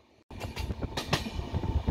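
Duronto Express train running on rails, heard from onboard as a steady rumble with rhythmic clickety-clack wheel beats after an abrupt start.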